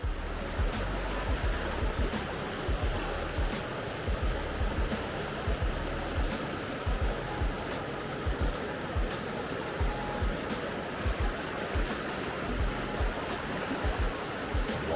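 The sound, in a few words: waterfall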